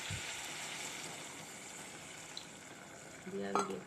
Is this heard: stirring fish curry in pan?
yes